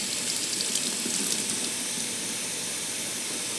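Tap water runs steadily into a bottle holding dish soap and olive oil, a loud continuous rushing hiss that stays even throughout without speech.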